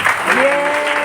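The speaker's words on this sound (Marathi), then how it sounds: "त्यांचं टाळी एकदा आपण कौतुक करतो" Audience clapping for the organisers at a family birthday celebration, a short burst of steady applause with a sustained tone ringing through it.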